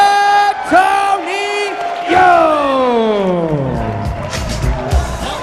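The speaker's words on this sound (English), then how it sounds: "Keep your applause going for Torin Ropiha, ladies and gentlemen." A large crowd at a boxing event roars and cheers loudly after a knockout win, with shouts and whoops rising over a sustained wash of noise; clapping is not clearly distinct.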